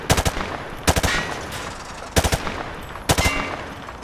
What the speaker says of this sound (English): Grab that weapon off the table and fire at the targets behind you.